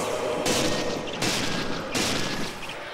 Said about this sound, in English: I keep panic firing